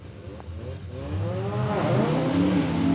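A rotary-engined drag car races against a Holden Torana at Palmyra Raceway, engines screaming as they rise sharply in pitch under hard acceleration, loud and close, with a thin high whine near the end.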